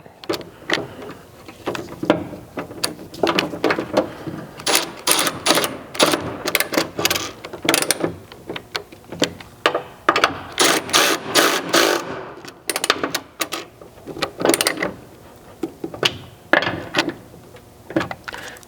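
Ratchet clicking as 13 mm bolts are tightened on a ditch light mount under the hood of a Ford Maverick, with close, dense bursts of sharp mechanical clicks in quick repeated runs and brief pauses between strokes.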